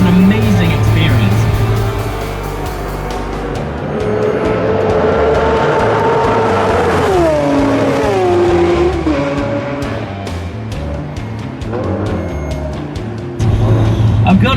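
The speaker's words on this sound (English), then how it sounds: "it truly sounds like a race car" A Lamborghini Aventador SVJ's naturally aspirated V12 roars loud and close, swelling and falling in pitch as it revs, with other cars passing like race cars warming up and a voice talking over parts of it.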